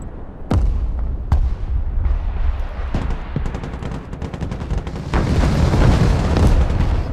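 Missile strikes in the Broken Arrow battle, sharp impacts followed by a steady barrage of blasts and rumbling booms, loud and dense, with heavy gunfire-like crackle swelling toward the end.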